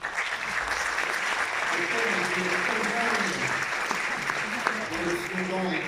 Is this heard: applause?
yes